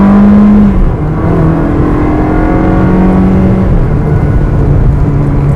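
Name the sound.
Ferrari 360 Spider engine accelerating through a turn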